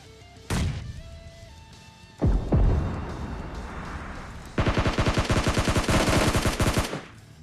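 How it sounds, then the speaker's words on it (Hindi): An RPG rocket launcher fires in a battle royale video game, two heavy booming blasts followed by a long burst of rapid automatic gunfire, loud and close. "बस घुसते हैं बंदों के मुंह पे और एक आरपीजी एक और दागते हैं उनके ऊपर"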